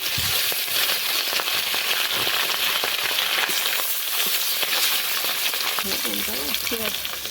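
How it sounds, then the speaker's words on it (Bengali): Food cooking on a handmade clay stove on a rooftop, a loud, steady sizzle and fry with dense crackles that runs throughout. A faint voice comes in briefly near the end. "এই যে ছাদে রান্না হচ্ছে মা ছাদে উনান করেছে ছাদেই রান্না হচ্ছে"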